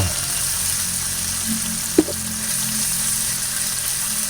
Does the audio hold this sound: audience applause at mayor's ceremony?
no